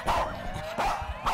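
Video game dogs bark and yelp in a zombie survival game, two or three close, loud barks with a whimpering edge, spaced across a short stretch over a constant game backdrop.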